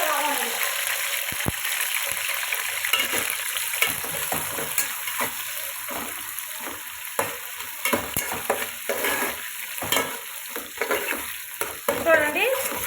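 Onions and curry leaves sizzle steadily in a hot pan while a spatula stirs them in repeated scraping strokes, loud and close, with some faint voice in the background.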